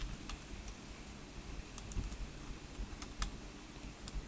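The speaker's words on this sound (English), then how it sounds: "let's say I'm going to type" Typing on a computer keyboard while entering text into an Excel spreadsheet, with rapid, irregular, soft key clicks close by over a steady low background hum.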